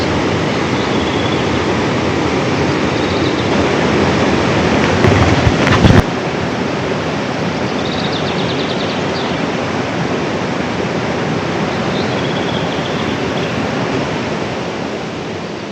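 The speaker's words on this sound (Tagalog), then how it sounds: "Sarap pakinggan ng agos." A forest river in Quezon Province near Lucena flowing over rocks, a steady broadband rush of water heard up close and continuous, with a brief louder splash or knock near the middle and no talking.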